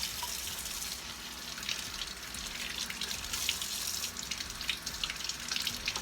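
Running tap water splashes steadily over soaked cucumbers being rubbed clean by hand in a sink, a close, continuous rushing with small drips and splatters.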